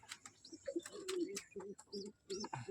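Pigeon chicks of a white-beaked breed make soft, low cooing calls in short bursts with some chirps, heard up close and fairly quiet.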